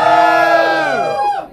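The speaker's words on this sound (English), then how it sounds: "give us a fucking cheer" A large crowd at a pop tribute show in a Leeds venue cheers and shouts together in one loud, sustained roar that fades out after a second or so.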